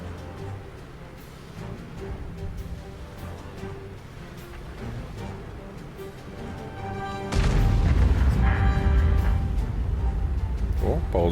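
A heavy boom from a VZ-55 Czech heavy tank's cannon in a video game erupts partway through and rolls on loudly, following quieter battle noise and a voice talking throughout.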